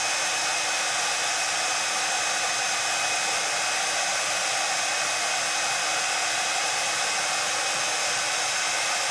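A hairdryer blows on a seashore resin artwork made with foil and crushed glass, giving a loud, unbroken, steady rush of air with no pauses or voices.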